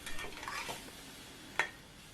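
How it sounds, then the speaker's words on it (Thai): Chicken sizzles and hisses in a pan while being stir-fried, with a faint scrape of a utensil against the metal, quiet and steady. "แล้วก็ผัด จนไก่พอสุกเลยนะครับ"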